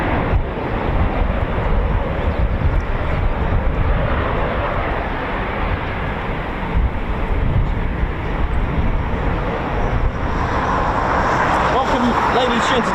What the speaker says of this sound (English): more Typhoons taxiing out